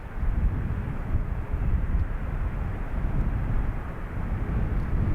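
A Qatar Amiri Airbus A330 taking off from runway 28 right at Dublin Airport, a steady, loud, low jet-engine roar holding throughout with no voices.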